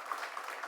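A congregation at a church retreat lecture claps for the accompanists, a brief, soft burst of applause heard from a distance.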